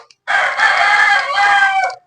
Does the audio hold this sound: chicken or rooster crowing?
yes